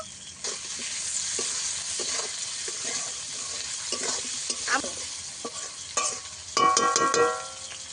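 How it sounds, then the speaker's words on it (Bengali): Potatoes and onions frying and being stirred in a pan for a Bengali aar fish curry, a steady close sizzle broken by repeated scraping stirs, with a sharper metallic clatter near the end. "পেঁয়াজ আর আলু ভালো করে ভাজা হয়ে গেছে"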